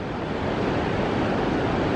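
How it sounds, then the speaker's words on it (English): St. Anthony Falls on the Mississippi River roars as a dense, steady wash of falling water, loud and unbroken with no voices over it. "That is St. Anthony Falls. That is the only waterfall on the Mississippi River."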